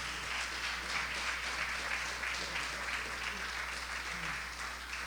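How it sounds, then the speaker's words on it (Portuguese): A church congregation at a family worship service applauds in a steady, continuous wave of clapping, heard slightly distant over a constant low electrical hum. "Aplauda o Senhor bem forte com as tuas palmas."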